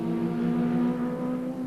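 Touring race cars at Eastern Creek in the 1992 ATCC howl past under race commentary with a sustained, droning engine note that sits at a moderate distance.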